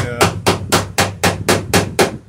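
Hammer strikes on a rivet head backed by a block against dory planking, eight sharp, evenly spaced close blows in quick succession with nothing else heard.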